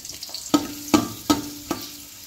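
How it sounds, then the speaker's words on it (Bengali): Chopped onions fry in ghee for Kolkata-style biryani, a faint sizzle beneath four sharp, evenly spaced knocks of a utensil against the pan, close and loud, with no one talking. "এবার কেটে রাখা পেঁয়াজগুলো দিয়ে দেওয়া হচ্ছে"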